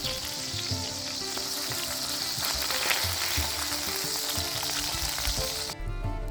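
Burger patties sear loudly on a hot grill after a splash of olive oil, a dense, steady sizzle and crackle close up for several seconds before cutting off abruptly near the end.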